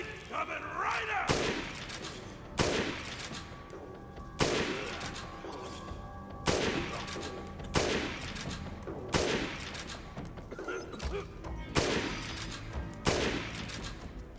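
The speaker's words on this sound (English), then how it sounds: "None of those bullets hit him, not a single bullet connected." Bursts of gunfire in the Dead Rising Deluxe Remaster video game, a sharp loud volley roughly every couple of seconds over a steady bed of game noise, with talk mixed in.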